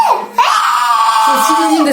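A young girl shrieks with joy right after school, giving a loud, close, sustained high-pitched scream that rises and wavers, with a brief break near the start.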